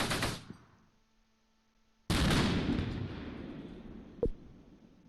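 Gunfire in the WWII tactics game Close Combat: Gateway to Caen, at Mouen in Normandy at night: a sharp burst that rings out, then a loud volley with a long rolling decay and one more crack near the end.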